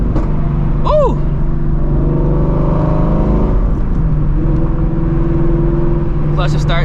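A Shelby GT350 engine pulls hard from inside the car, a loud steady rumble with rising and shifting engine tones and a brief pause between pulls, with voices talking over it.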